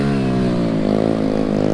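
Engine of a dirt bike or quad on a lot holds a steady, loud, harmonic drone with a slight rise in pitch, close by and without talk.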